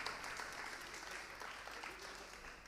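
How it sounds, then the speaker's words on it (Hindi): Audience applause at a Jain religious discourse, a dense and steady wash of many hands clapping that holds evenly throughout with no voices. "ताली बजना चाहिए थी इस बात पर"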